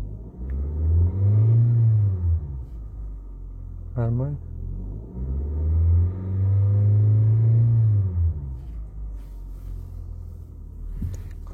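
A Hyundai car engine is revved up twice in two long, rising swells, with rumbling idle between them. Someone says one short word nearby.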